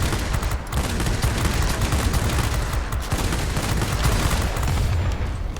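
Rapid 30mm cannon fire from a Me 109 TL fighter in World of Warplanes, a loud continuous roar of heavy gunfire with dense overlapping shots and no voices.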